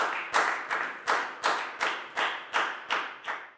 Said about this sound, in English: A big round of applause for everyone doing a great job.